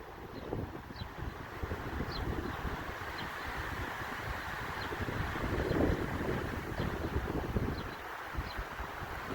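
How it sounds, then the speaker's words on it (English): Wind blows hard through trees outdoors, a continuous broad rustling roar that swells and eases, with gusts buffeting the microphone and no talking. "you can tell how fast the wind is blowing based on the sound the trees make. They're much noisier when it's fast"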